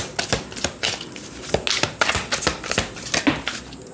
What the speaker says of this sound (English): Let me zoom out so you all can see me shuffling.